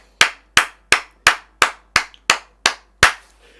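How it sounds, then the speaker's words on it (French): A church congregation clapping in unison, nine sharp, loud claps in a steady, even rhythm with silence between them and no voices. "Est-ce que tu peux acclamer pour la gloire de Dieu?"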